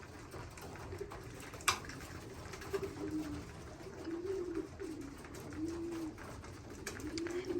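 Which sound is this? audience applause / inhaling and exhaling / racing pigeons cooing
racing pigeons cooing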